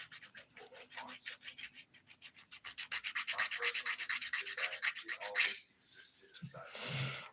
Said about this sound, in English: I am filing the index finger. I'm using a 100 by 180 grit file, which is what I always use.